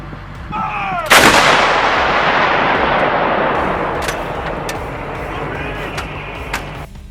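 A T-90A tank cannon fires one huge, sharp blast that rolls into a long echoing rumble, followed by faint distant cracks of gunfire on a battlefield.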